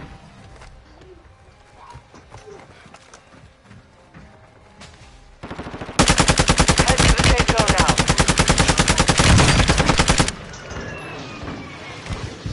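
Loud sustained burst of rapid automatic gunfire from a first-person shooter video game, a dense machine-gun-like volley lasting several seconds, framed by quieter scattered shots and game ambience; no shotgun blast stands out clearly.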